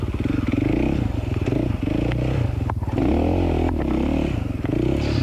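A dirt bike engine in first gear revs hard and continuously during a hard enduro race, a loud, close, rapidly pulsing drone that rises and dips with the clutch work.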